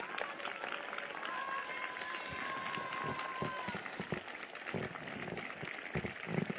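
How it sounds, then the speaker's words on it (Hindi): Congregation clapping hands at a prophecy church service in cold weather, a dense steady crowd applause running throughout with a sustained tone and a voice under it. "बजाओ ताली।"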